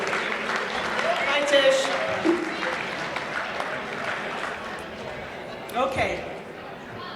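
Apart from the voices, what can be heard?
audience applause at awards ceremony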